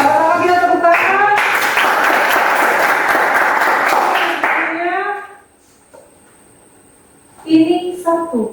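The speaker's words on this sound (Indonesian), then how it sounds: "Ayo, sama-sama kita tepuk tangan." A high school class claps hands together in unison on a teacher's cue. Steady, loud group clapping runs for several seconds between short stretches of talk, then stops, and speech returns briefly at the end.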